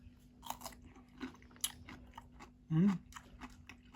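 Lightly salted pickled cucumbers are chewed up close, with a run of crisp, wet crunches in steady rhythm and one louder bite near the end, in a quiet room.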